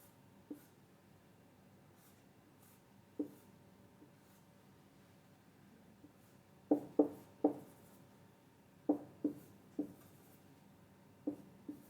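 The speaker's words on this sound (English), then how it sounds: "I try to make a drawing of that." A pen drawing a chemistry diagram on paper makes faint, scattered scratchy strokes, several isolated and a few in quick clusters, against a quiet room with no speech.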